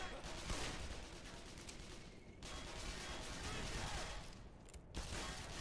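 Dense, continuous gunfire from weapons in the video game Black Mesa, a loud barrage of rapid overlapping shots with no clear pauses, filling the whole stretch.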